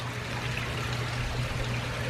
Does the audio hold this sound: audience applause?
no